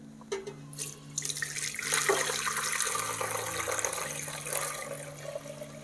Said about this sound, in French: on va passer la cuisson au tamis